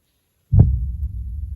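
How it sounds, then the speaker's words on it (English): A camera knocked by hand during a crochet demonstration gives a sudden low thump, followed by a steady, dull rumble of handling noise with no voices. "I hit the camera."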